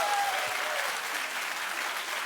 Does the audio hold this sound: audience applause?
yes